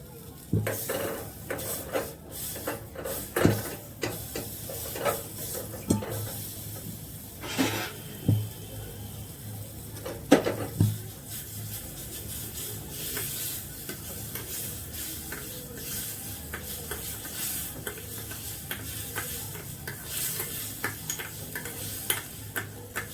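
Butter melts in a pan over a medium-high gas flame, giving a quiet, steady sizzle under a series of sharp clicks and clatters from a utensil against the pan, with no talking.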